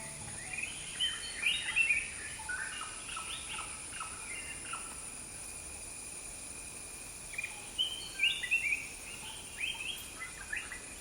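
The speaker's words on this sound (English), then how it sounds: "With its vibrant blue color and constant calls, this bird is a part of a large family of species." Tickell's blue flycatcher calling in the forest of Thattekad Bird Sanctuary, Kerala: two bursts of bright, rapid chirping notes, one early and one later, over a steady hum of insects, fairly faint and alone without talk.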